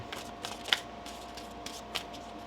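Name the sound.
shuffling tarot cards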